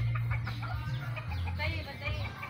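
Chickens cluck close by in short, choppy bursts as they are fed bread alongside pigeons, over a low steady hum, with faint voices in the background.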